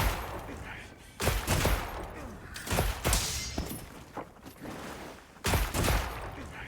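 Rapid-fire-mode gunshots in Monster Hunter Wilds, short bursts of quick heavy blasts in three or four clusters with quieter gaps of combat noise between them.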